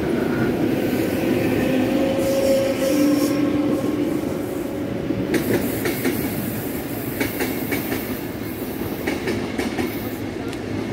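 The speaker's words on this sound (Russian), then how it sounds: "туда поехала электричка" Electric commuter train pulling away from the Serp i Molot platform in Moscow, a steady rumble of rail noise with wheel clatter and faint squeals, continuous and moderately close for the whole stretch.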